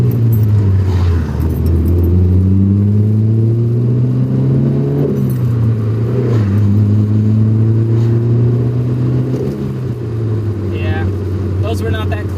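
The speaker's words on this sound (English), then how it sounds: "I was adding a little too much gas and letting out the clutch again a little too quick" A third-generation Honda Prelude converted to a manual gearbox accelerates loudly from close by, its engine note climbing and dropping as the clutch is let out and gears change; a driver talks over the engine.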